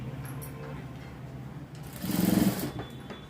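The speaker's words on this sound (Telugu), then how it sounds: "స్ట్రైట్గా ఒక కుట్టు అనేది వేసుకోవాలి" A sewing machine runs a straight stitch along a folded blouse sleeve seam, a faint hum at first, then a short loud whirring burst of rapid stitching that quickly winds down.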